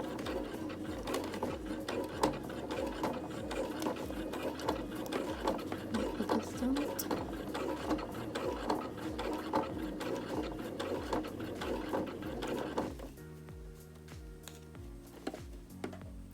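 A sewing machine runs slowly while stitching a contoured waistband, giving a steady rhythmic mechanical chatter of needle strokes that stops near the end, with a person talking over it.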